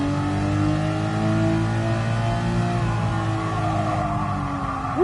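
A racing car engine in Gran Turismo Sport VR revs and accelerates with rising harmonic whine through gear changes, loud and continuous, close to the cockpit.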